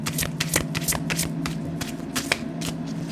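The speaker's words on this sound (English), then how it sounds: "riffle shuffle" Large oversized playing cards riffle shuffled by hand, producing a close, continuous fluttering rattle with repeated sharp bursts as the halves are pushed together, loud and steady throughout.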